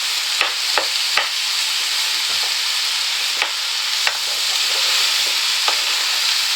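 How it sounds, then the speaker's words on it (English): Stewing steak browns in a hot pan, a steady broadband sizzle with several sharp clicks and scrapes from stirring, close and fairly loud with no talking. "Now we're just going to cook that through now until the steak is browned."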